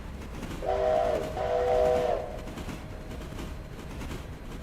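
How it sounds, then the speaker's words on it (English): Steam-style train whistle in a railroad simulator game, two sustained blasts in quick succession with a fading tail over steady rail rumble, moderately loud, no talk. "I just heard the whistle."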